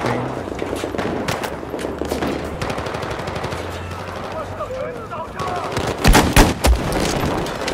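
A recoiling gun fires in the Gun Master video game in rapid automatic bursts, loud and close, with sharp reports, a heavier cluster of shots toward the end, and someone talking over it.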